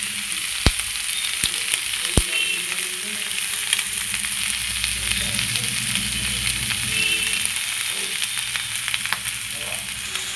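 Green chillies and cumin seeds fry in a hot pan with a steady, bright sizzle throughout. A few sharp clicks and pops break through the hiss, and no one speaks.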